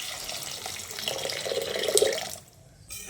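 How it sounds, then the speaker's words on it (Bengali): Water pours steadily into frying masala for a katla fish curry, a continuous splashing stream lasting about two seconds before stopping, with no talk. "এবার এই পর্যায়ে দিয়ে দিচ্ছি পরিমাণ মতো জল।"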